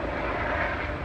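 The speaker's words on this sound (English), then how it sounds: "It's an electricity helicopter checking pylons and wires." Electricity company helicopter inspecting pylons and power lines over a village, a steady broadband rotor and engine drone that holds at even loudness throughout, with no talk.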